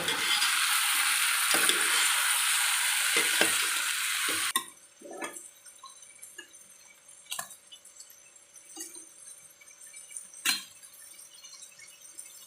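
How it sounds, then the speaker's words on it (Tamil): Vegetables fry loudly in a pan for a dried-fish curry as a ladle scrapes the bottom, a dense sizzle that cuts off abruptly partway through, leaving scattered clinks and scrapes of the ladle against the pan. "அடியில் வந்து கரண்டியை வச்சு இந்த மாதிரி கிளறுங்க"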